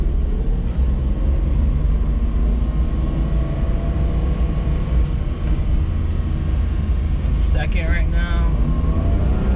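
A Daihatsu kei van's small engine drones steadily from inside the cabin while driving, with someone talking over it and a brief sharp squeak near the end.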